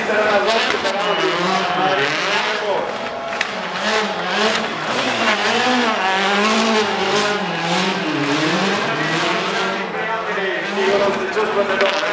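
A rally race car engine revs hard and shifts through rising and falling pitch sweeps, loud and close, with people talking over the mechanical roar.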